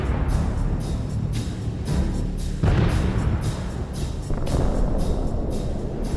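Several explosions and artillery booms strike in quick succession around a Max Pro armored vehicle driving at full speed in a war zone, heavy blasts recurring every second or so over a constant loud engine roar.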